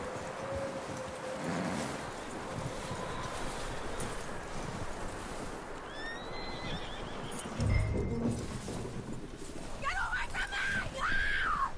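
Horse hooves clip-clopping and a whinny from a horse in a video game, set against a steady wind-like outdoor ambience, with a brief thump and a couple of higher calls near the end.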